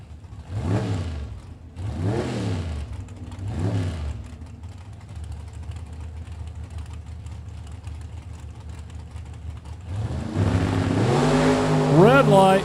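Engines of a 1963 Chevy Del and a 1967 Oldsmobile 442 at a drag strip, with repeated rising revs early on, a steadier drone, then a loud surging run-up near the end, under announcer talk.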